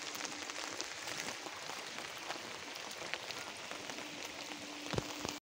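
Steady monsoon rain in Udalguri, Assam, during flooding, a dense continuous patter of drops on surfaces, soft and even with no voices.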